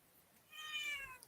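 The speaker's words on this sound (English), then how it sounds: "Yes, cat." A single faint cat meow, short and rising then falling, sounds alone over a quiet background.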